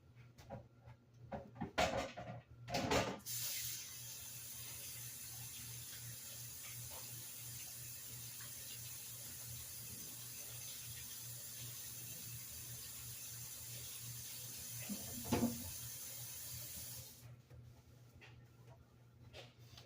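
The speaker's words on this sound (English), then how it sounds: "Let me wash my hands" A kitchen tap runs steadily while hands are washed beneath it, a constant close rush of water with a few knocks and splashes, starting after some handling noises and cutting off near the end.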